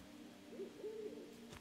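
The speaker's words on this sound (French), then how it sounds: "J'entends le hibou." An owl hoots in the game Endling, two or three soft tonal hoots, faint and somewhat distant, set against a quiet ambient background.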